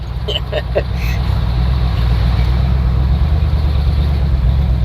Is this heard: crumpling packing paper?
no